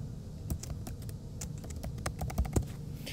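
Typing on a computer keyboard, a quick irregular run of close, crisp key clicks and taps lasting a few seconds, with no voices.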